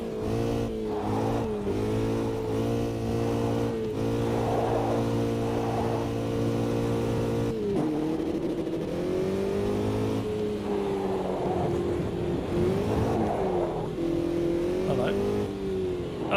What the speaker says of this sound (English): Let's warm them tyres up.